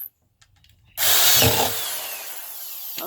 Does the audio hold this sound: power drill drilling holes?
yes